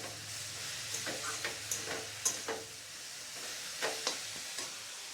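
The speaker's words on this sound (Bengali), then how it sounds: "এবারে শুধু নাড়তে থাকবো।" Papaya with a little turmeric stirred in a pan over gentle frying, soft sizzle beneath intermittent spatula scrapes and taps, close and unaccompanied by talk.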